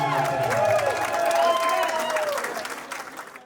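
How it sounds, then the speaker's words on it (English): Guests at a wedding reception clap together in a warm, sustained round of applause with crowd murmur, tapering off toward the end. "A round of applause."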